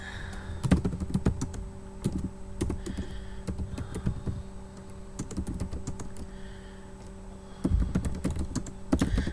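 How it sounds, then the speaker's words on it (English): Rapid bursts of typing on a computer keyboard, with quick clusters of key clicks separated by short pauses, fairly close and moderately loud over a low steady background hum. "I'm just typing this link on my Facebook channel"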